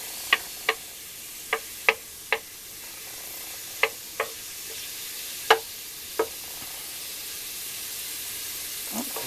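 Mushrooms frying in a pan give a steady soft sizzle, broken by about ten sharp, separate clicks and taps from a utensil against the pan, with no talking.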